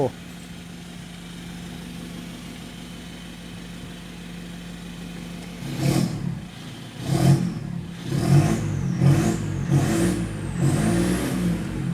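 Pickup truck fitted with a full aftermarket exhaust system, quiet at first, then revved in several sharp bursts over the last half, each a loud rising surge close by.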